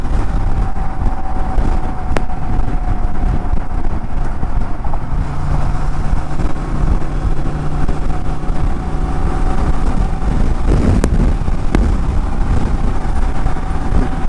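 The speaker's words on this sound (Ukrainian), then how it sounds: "Так, це гума так шумить." Steady low road roar with a constant drone as the tyres of a 2023 Honda Transalp 750 motorcycle hum on asphalt at speed, wind rushing throughout and no voices.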